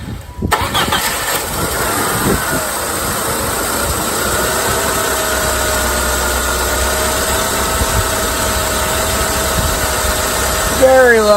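A 1999 Saturn SC1 with a SOHC engine, lean-running with a failing fuel pump, cranks briefly, catches and settles into a steady idle, with a small rev near the end.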